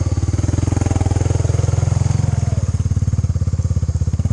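Honda 300 ATV on 35-inch BKT tires, front locker engaged, creeping forward with a close, steady low engine chug and a rapid even firing pulse throughout.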